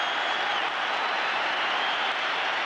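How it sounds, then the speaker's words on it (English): Tremendous stadium applause from the crowd at a Rangers v Hearts football match as Laudrup leaves the field, a steady dense roar of clapping and cheering that holds evenly throughout. "Laudrup leaving the field to tremendous applause"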